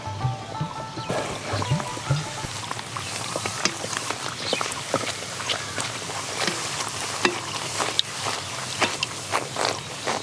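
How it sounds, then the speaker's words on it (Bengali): Luchi, puffed Bengali flatbread, frying in hot oil, a steady dense crackle and hiss peppered with sharp pops and spatters that carry on throughout without any talking. "লুচি ভাজার জন্য তেল ভালো করে গরম করে নিতে হবে"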